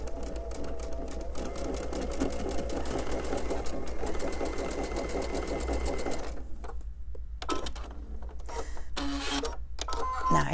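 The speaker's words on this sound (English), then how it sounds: "Now I'm going to sew this part to this part" Sewing machine stitching quilt block pieces together, running in a steady fast chatter for about six seconds, then breaking into shorter stop-start bursts with brief pauses, close and clear.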